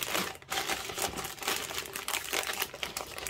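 Cellophane crinkles and rustles in steady, close-up bursts during resin crafting, the crackly handling running continuously with no talking.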